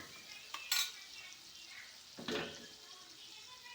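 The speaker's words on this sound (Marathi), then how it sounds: "फिरून घेऊया" A spoon scrapes and stirs palak paneer in a frying pan, two short distinct stirring strokes over a faint low sizzle, fairly quiet and close.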